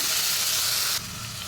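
Amaranth leaves fry in a hot pan with a steady, dense sizzle that drops slightly in loudness partway through, close by and alone.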